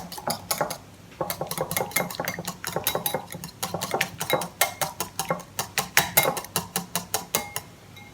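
A whisk or beater clacks rhythmically against a bowl while whipping egg yolks with half a teaspoon of vanilla for chiffon cake batter, a fast steady series of sharp metallic taps with a brief pause near the start.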